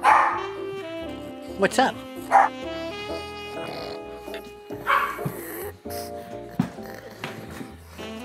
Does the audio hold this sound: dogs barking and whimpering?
yes